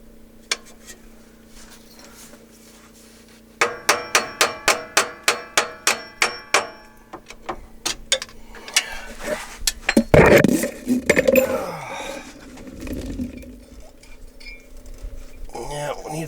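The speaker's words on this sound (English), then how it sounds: "See if we can bash this thing the rest of the way out of here." A hammer strikes an old A/C compressor in a 2006 Jeep TJ, starting with a rapid run of about a dozen evenly spaced ringing metallic clanks, then heavier irregular bangs and scraping as it shifts. Some talk runs underneath.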